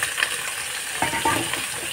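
Pork bones sizzling in a pot with ginger, a steady close hiss of frying with light crackles and faint stirring scrapes, no talking.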